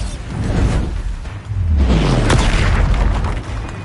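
A Bombarda spell explosion in the video game Hogwarts Legacy, a loud, full boom with a rushing whoosh that swells and sustains for several seconds amid ongoing combat effects.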